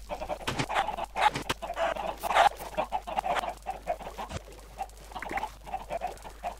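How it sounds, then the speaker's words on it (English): Chickens clucking on a Minecraft chicken farm, with a steady run of short, overlapping clucks and squawks at moderate loudness and no voices. "So let's kill our last batch of chickens in this farm."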